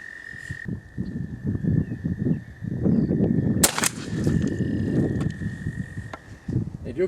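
A 20 gauge shotgun loaded with turkey shotshells fires one sharp, loud blast partway through, set against an outdoor background with a faint steady tone and low rumbling noise.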